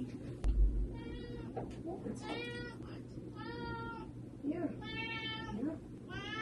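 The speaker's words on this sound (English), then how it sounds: "Sorry, I have to let my cat in." A cat meows repeatedly to be let in, several distinct calls in an irregular rhythm, close by and fairly loud over a low background hum, with a thud near the start.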